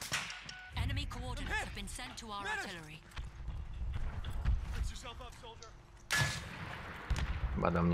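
A tank firing at the player in Battlefield 1, with a couple of sharp, heavy blasts cutting through ongoing battlefield noise while someone talks over most of the stretch.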